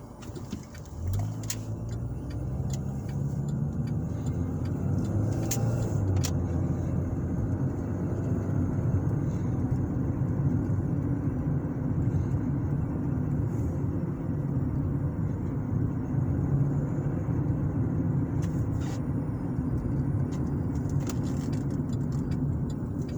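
A car drives along a residential road in Lawrence, Indiana, with a steady low engine and tyre rumble heard from inside. Faint, occasional clicks and higher tones sit above the constant drone.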